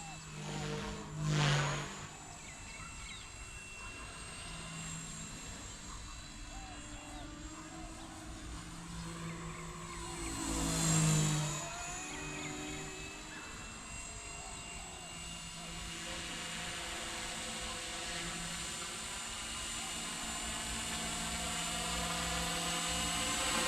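A Blade 250CFX RC helicopter fitted with a Microheli three-blade head flies with a steady high-pitched whine, rising and swelling as it passes and holding close and fairly loud throughout.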